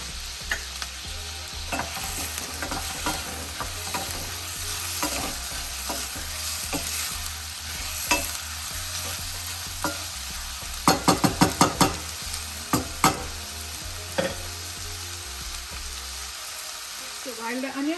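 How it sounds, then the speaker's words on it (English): Onions for mutton palak fry over high heat in a pan, a steady sizzle punctuated by repeated spatula scrapes and stirring clatters, with a cluster of sharper knocks partway through. "So while the onions are cooking"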